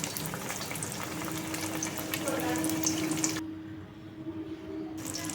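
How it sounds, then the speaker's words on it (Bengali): Cornflake-coated fish frying on medium-low flame in hot oil in an iron wok, a steady close sizzle and crackle that drops away briefly near the end. "মিডিয়াম টু লো ফ্লেমে ভাজা হবে মাছগুলো"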